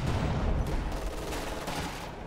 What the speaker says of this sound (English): I like the artillery barrage going down.